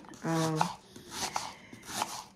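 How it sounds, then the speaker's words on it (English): A knife slices an onion very thinly for a curry, giving a few sharp, close cutting strokes spaced under a second apart, with a short voiced sound just before the first stroke. "make sure you cut the onion the way I'm cutting it"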